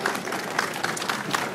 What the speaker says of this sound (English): big round of applause for our two panelists